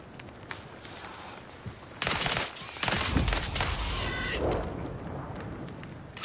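Gun firing in The Outer Worlds 2 video game: two short bursts of sharp shots, fairly close, over quiet ambient background.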